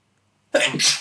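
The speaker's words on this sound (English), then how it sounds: "I'm gonna sneeze." A single sharp, loud sneeze bursting out after a moment of silence, close and forceful.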